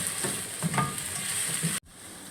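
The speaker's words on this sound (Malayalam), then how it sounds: "കരിയാപ്പില ഇതെല്ലാം ഒന്ന് വഴന്ന് വരട്ടെ നല്ലോണം ഒന്ന് മൂക്കണം" Sliced onions, green chilies and curry leaves sauté in a pan for a Kerala-style crab roast, giving a steady close sizzle with light stirring scrapes that stop abruptly near the end.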